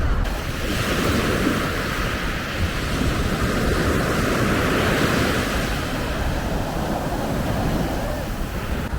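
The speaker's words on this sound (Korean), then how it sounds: "바다 소리 들려드릴게요." Loud, continuous rush of ocean waves breaking close by at Haeundae beach in Busan, a dense roar with some wind buffeting, no talking.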